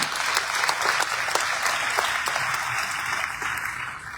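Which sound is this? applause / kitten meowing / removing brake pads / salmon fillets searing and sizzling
applause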